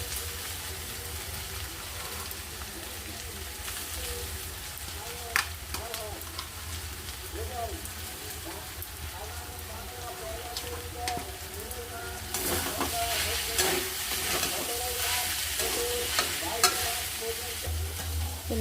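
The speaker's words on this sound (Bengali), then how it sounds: "এখন আমি বিনসটাকে একটু ভেজে নেব। এবার আমি বাঁধাকপিটাকেও দিয়ে দেব।" Beans and then cabbage frying in a pan for a vegetable momo filling with peas, giving a continuous close sizzle with repeated stirring scrapes that grow louder and busier in the later part, a voice faintly present.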